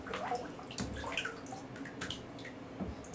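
Slime Baff powder is stirred into water in a bathtub, giving soft sloshing and dripping splashes that continue steadily for a few seconds.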